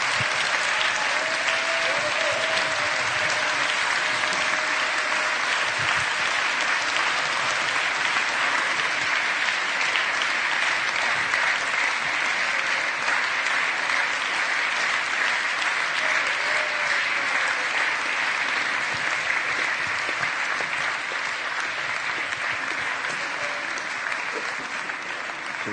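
A large audience at a live Mindvalley University event gives Sri Sri Ravi Shankar a long, loud, sustained round of applause, a continuous wash of clapping that holds steady for about twenty-five seconds with no voices over it.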